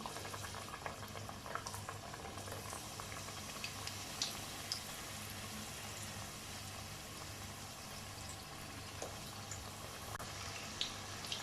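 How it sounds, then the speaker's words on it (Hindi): Mini potato spring rolls fry in hot oil with a soft, continuous bubbling sizzle and occasional faint pops, quiet and steady throughout. "रोल हमने ऑयल में डाल दिए।"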